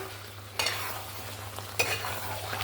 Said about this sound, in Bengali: চিকেনটাকে কষিয়ে দেখুন একদম জল শুকিয়ে নিয়েছি।